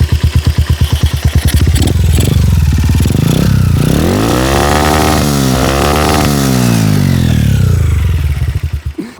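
A motorcycle engine fitted to a motorized bicycle, heard close and loud as it starts with rapid popping, then revs hard in rising and falling sweeps toward high rpm before cutting back at the end.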